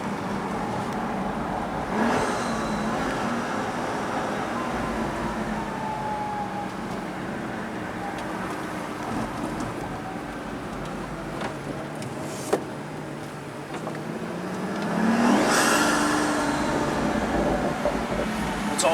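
Pagani Huayra Project Vulcan heard from inside during a ride, a steady engine drone with tyre and cabin rumble that swells into a louder surge near the end, no talk.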